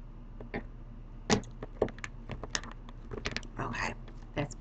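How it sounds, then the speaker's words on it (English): Tarot cards being shuffled and cut by hand, a quiet, close-up run of irregular soft slaps and riffling clicks with short pauses between bursts. "Let me shuffle again"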